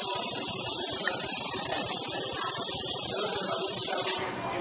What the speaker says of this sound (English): by spraying the pan